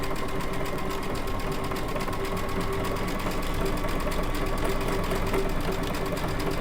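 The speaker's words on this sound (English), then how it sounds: "So we are going to do a circular handle stitch." A Baby Lock Altair sewing machine with a circular sewing attachment runs steadily, stitching a circular handle stitch in a continuous, even mechanical whir with rapid needle ticking throughout.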